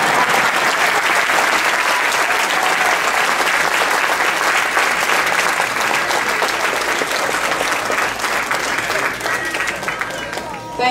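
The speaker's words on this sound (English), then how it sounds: "and you can clap." Applause from a concert audience at a classical Indian music festival following a tabla teentaal rela performance, a steady dense wash of clapping that holds loud throughout and eases slightly near the end.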